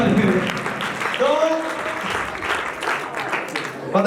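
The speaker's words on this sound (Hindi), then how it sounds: "जोरदार ताली" An audience claps loudly and continuously throughout, with voices talking over the steady applause.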